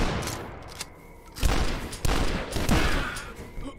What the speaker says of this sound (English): I do like that they explode like that when they die, though.